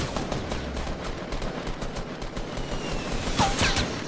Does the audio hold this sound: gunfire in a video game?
yes